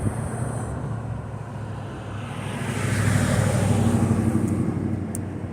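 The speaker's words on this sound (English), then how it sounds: "A little bit windy today." Steady wind rushes and buffets across the microphone, swelling louder partway through with a broad, noisy roar and no clear voices.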